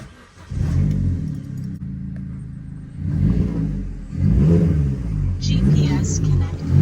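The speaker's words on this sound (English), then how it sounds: "So here's how it sounds when you start it up from inside." An Opel Corsa fitted with a Fastlanestyling aftermarket exhaust starts up, heard from inside the car: a deep engine rumble that swells into several revs, fairly loud and close, with no talk.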